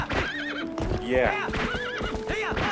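Horse neighing and galloping in Zelda: Twilight Princess, repeated rising whinnies over rapid clip-clopping hooves, with someone talking briefly over it.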